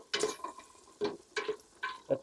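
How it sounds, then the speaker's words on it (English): Softened onions stirred in oil with salt and pepper in a pan: several soft scraping strokes come in separate bursts with short pauses between them, faint and close, over a quiet sizzle. "Stir this around a bit."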